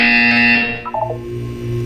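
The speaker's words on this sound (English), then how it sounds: "You will hear a buzzer." Loud electronic buzzer tone in a Roblox game, a harsh sustained blare that drops in pitch partway through and then holds a lower droning tone to the end.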